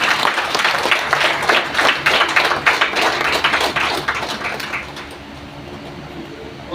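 Seminar audience clapping together to welcome newcomers at an association meeting, a lively burst of many hands applauding in a room that fades out over several seconds into quiet room tone.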